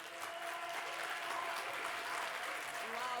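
Audience applause fills a political meeting hall in Montreuil, a steady, dense clatter of many hands sustained for a few seconds, with voices faintly mixed in beneath.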